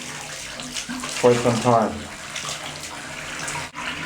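Tub faucet running with water again after a house repipe to copper, a steady rushing stream under someone talking.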